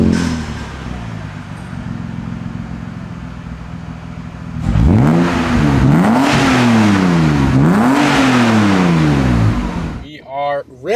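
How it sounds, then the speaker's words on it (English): A BMW E36 M3 with 270,000 miles on it drives off. Its engine idles at first, then climbs loudly through several rising revs, easing back between gear changes, and drops away at the end. "Let's take this M3 out for a drive."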